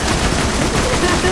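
Rapid automatic gunfire from the video game Borderlands 2, a dense continuous rattle of shots filling the whole moment, loud and close with game sounds layered in.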